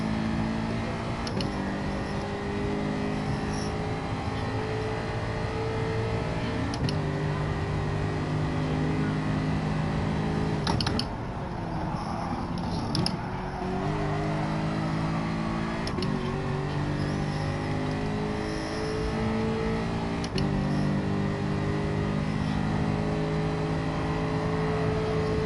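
A race car engine revs steadily in a racing video game, a continuous loud harmonic drone with gear-shift dips and pitch changes, alone without talk.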